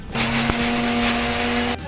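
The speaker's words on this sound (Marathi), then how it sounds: "त्याच्यात पाणी टाकायचं थोडासा हे बघा आणि मग मिक्सर मध्ये लावायचे" Mixer grinder running on small crab claws with water for a Malvani crab curry: a steady, loud whirring grind with a constant motor hum that starts abruptly and cuts off near the end.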